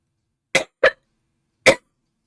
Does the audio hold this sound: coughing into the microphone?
yes